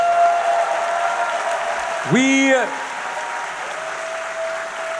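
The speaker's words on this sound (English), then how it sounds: "Let's give them a round of applause." A political rally crowd applauds teachers: a steady wash of applause fills the space at moderate volume, with a brief voice rising over it partway through.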